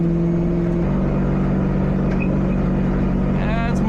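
Steady, loud engine and road drone from inside a car on a test drive after a chassis-mounted splitter was installed, with a constant low hum throughout and no clear speech.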